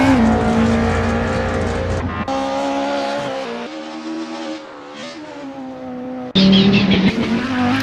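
Racing cars roar across the finish line at Le Mans in a 1985-era racing video game, with a BMW E30, a Ford and a Volvo in the field; loud, sustained engine drone with shifting pitch and a sharp surge near the end.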